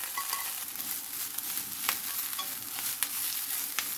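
Hijiki stir-fried with green onion and soup soy sauce in a pan, soft sizzling under repeated scraping and stirring strokes, close but fairly quiet, with sharp clacks from the utensil and no talking.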